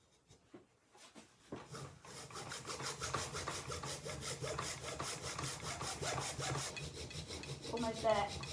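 A coping saw cuts through wood held near a new lathe chuck during a small woodturning bowl project. Close, rhythmic rasping strokes start after a few faint taps and continue steadily at moderate volume.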